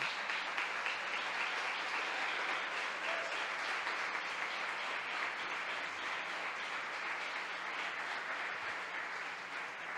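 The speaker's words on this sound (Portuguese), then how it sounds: "Aplaude a Jesus por isso." A church congregation applauds in a sustained, even roar of clapping, heard from some distance at moderate volume for the full ten seconds.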